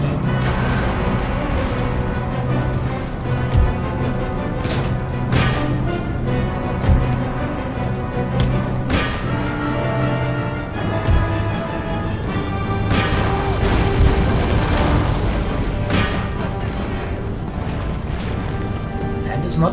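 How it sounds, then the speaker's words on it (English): Mortar shelling in the video game Empire: Total War, heard as repeated booming impacts scattered through a dense, continuous battle din, with sharp crashes standing out every few seconds. "So, constant mortar shelling."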